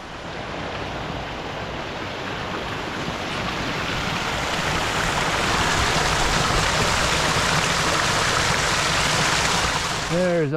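A stream running as a water source along a hiking trail, a steady rushing wash of flowing water that swells slightly louder over time, mixed with wind buffeting the microphone and a faint voice near the end.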